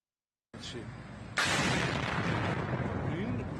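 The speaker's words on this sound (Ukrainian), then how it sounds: "Свідок, що фільмує вибух від дороги, каже: до цього було чути залпи ПВО." A sudden loud blast over a military plant in Isfahan, Iran, bursts in after a quieter stretch of distant rumble, then a sustained roaring fire and noise continue, heard from a roadside at some distance.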